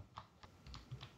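Keys tapped quickly on a keyboard while entering an email address, several faint, close clicks in an uneven rhythm.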